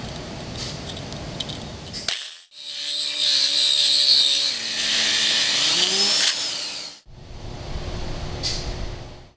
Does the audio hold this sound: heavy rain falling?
no